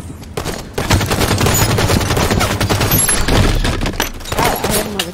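Rapid automatic gunfire in the video game Halo 5: Guardians, loud and close, in sustained bursts of dense shots that fill nearly the whole stretch.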